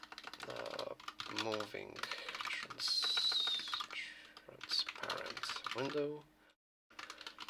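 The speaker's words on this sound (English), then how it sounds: "Hopefully the keyboard won't be as loud via the microphone." Computer keyboard typing during a first livestream of game development, a steady patter of clicking keystrokes in bursts mixed with a nearby voice talking, fairly loud through the microphone.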